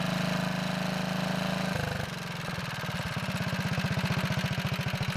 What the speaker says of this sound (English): This is the first time I was able to do that without the engine dying.